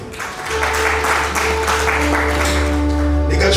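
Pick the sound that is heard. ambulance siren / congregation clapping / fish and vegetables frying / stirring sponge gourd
congregation clapping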